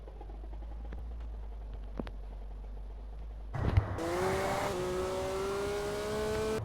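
Car spawned and driven in the Grand RP video game: a steady low idle drone, then a sudden jolt and a rising engine whine that climbs in pitch as the car accelerates and revs, fairly loud and continuous with no talk.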